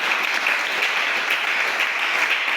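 Applause from a congregation at a church service, a steady dense wash of clapping that holds evenly loud throughout, with no voices rising above it.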